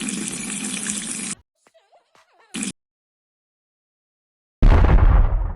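Bursts of spraying water from a toy water gun hiss loudly in two long spells, broken by near-silence with faint brief sounds and a short extra squirt.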